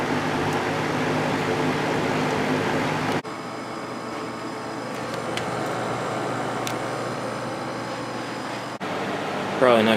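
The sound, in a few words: Air King V20E two-speed reversible box fan running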